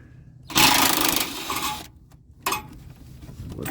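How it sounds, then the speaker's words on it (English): A small impact driver whirs and rattles loosening 8mm oil pan bolts on a 2021 Ford F150, with two bursts of fast buzzing hammering, the first longer, separated by a short pause and heard close up. "So just use a little impact driver."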